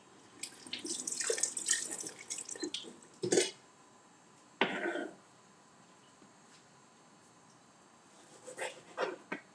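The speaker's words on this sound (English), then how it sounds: "I'm using 2 green onions here. Wash them." Tap water runs in short bursts while two green onions are rinsed at a kitchen sink, with splashing spurts near the start, middle and end separated by quieter gaps.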